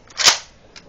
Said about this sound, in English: It's a slam fire. See?